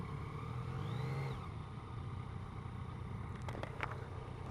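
A 2015 Yamaha FJ-09 Tracer motorcycle ridden slowly around a parking lot, its engine a steady low rumble that lifts briefly and then settles, with a few light clicks near the end.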